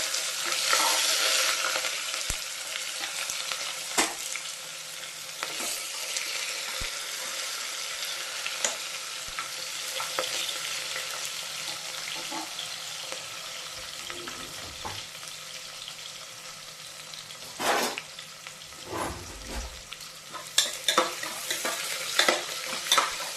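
Onions fry in a pan with garam masala and kasuri methi, giving a steady low sizzle over about twenty seconds with repeated stirring scrapes and occasional clinks of a utensil against the pan.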